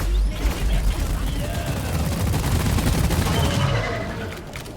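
GK2 assault rifle in a video game, fitted with an overclocked firing mechanism, firing continuously in dense rapid bursts for nearly five seconds, loud and close, with game effects and a voice underneath.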